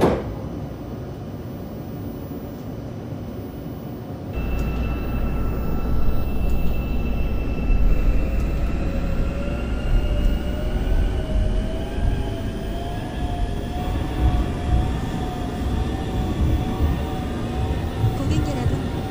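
A Seoul Metropolitan Subway Line 4 train bound for Oido rumbles along inside the car, a steady low drone that swells as it accelerates, with rising motor whine tones and occasional rail clatter.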